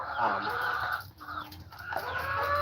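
Chickens cluck and call on a farm, a continuous chatter of overlapping bird sounds at moderate distance, fairly faint, with a few sharper calls rising out of the flock.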